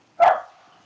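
A single dog bark comes through the microphone of an online board meeting, loud and close, with a short fading tail and no talk over it.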